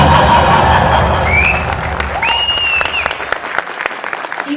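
An enthusiastic crowd applauds at the Bramayugam press meet with Mammootty. The clapping is loud and dense at first, joined by a couple of whistles, then gradually thins out.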